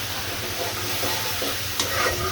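Onion paste, ginger paste and green chilies sizzle loudly and steadily in a hot pan, a close, even hiss with stirring scrapes and one sharp clink near the end, and no one speaking.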